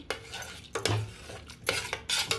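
Spoon stirring a melted jaggery mixture in a metal pot for mung dal payasa, a few soft scraping clinks at close range with no talking.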